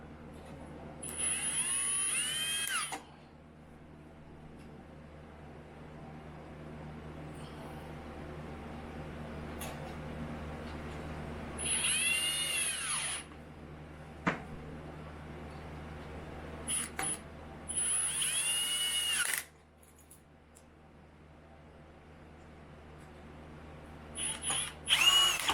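A power drill drives the mounting screws of a 48-port UniFi PoE network switch in short separate bursts, each whirring for a second or two with quiet gaps between them and no talk.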